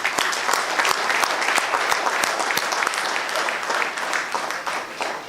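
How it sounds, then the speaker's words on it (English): Steady applause from a crowd at a chamber of commerce annual conclave in Goa, dense clapping that stays full and even throughout, with no voices standing out. "we should all get together to clap for everybody who participated"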